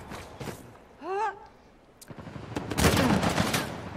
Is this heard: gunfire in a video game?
yes